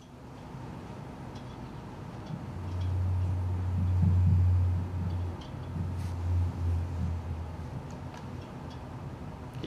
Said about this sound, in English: So this is a blue whale off New York on the 23rd of January.